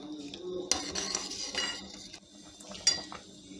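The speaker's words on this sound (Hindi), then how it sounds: "इसको हम इसी तरीके से आहिस्ता आहिस्ता चम्मच चलाते रहेंगे ताकि नीचे लगे ना" A metal spoon scrapes and clinks against a cooking pot while tamarind chutney is stirred slowly, a few sharp taps standing out over soft scraping, close and moderately quiet.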